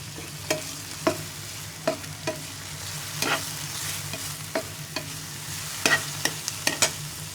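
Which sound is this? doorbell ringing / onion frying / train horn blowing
onion frying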